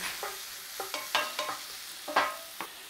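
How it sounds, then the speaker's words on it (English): Onions sweating with garlic, salt and pepper in a pan over a low flame, a soft steady sizzle broken by about eight short scraping stirs at an uneven pace, close and fairly quiet, with no talking. "Start to sweat your onions down a little bit"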